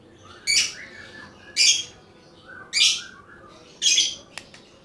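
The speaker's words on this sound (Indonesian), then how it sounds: "Burung labet kita ya" A labet bird repeats a bright chirping call four times at roughly one-second intervals, close and clear over quiet background noise.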